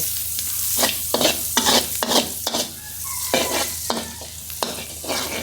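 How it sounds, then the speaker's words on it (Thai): Garlic sizzles in a hot pan while a utensil stir-fries it, stirring and scraping in repeated quick bursts, close by, with no voices. "นี่ขั้นตอนผัดเลยครับคุณผู้ชมใส่กระทะเดิมไปเลย"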